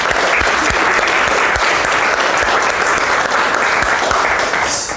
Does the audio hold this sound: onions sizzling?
no